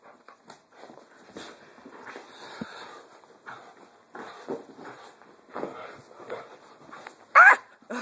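A pitbull barks while playing, giving short, scattered yips and barks mixed with whimpers and shuffling movement close by, with a person's voice heard now and then.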